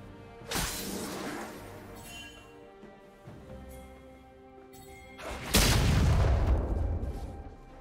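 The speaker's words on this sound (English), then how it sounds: "Blue team's turret has been destroyed." Turret destruction explosion in the League of Legends video game, with two loud booming crashes, one sharp burst early and a bigger rumbling blast later, over layered game music and effects, with no talk.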